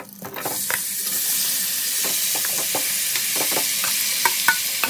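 Marinated cabbage goes into hot oil for a Bengali cabbage paturi, bursting into a loud hiss that settles into a steady sizzle, with repeated scraping and clinking of a spatula stirring up close.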